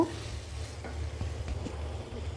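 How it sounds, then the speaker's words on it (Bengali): Loitta dried fish (shutki) being stirred and fried in a pan, with a steady low sizzle and scraping stir strokes running continuously and close, no talking. "কষানো হওয়া পর্যন্ত নাড়তে থাকব শুটকি খুব ভালো করে কষানো হয়ে গিয়েছে"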